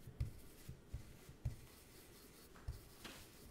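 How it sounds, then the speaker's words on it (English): A dry stencil brush swirls on paper in short scratchy rubs, a soft irregular series of brief strokes close to the microphone, quiet with no talking. "just doing little swirly motions"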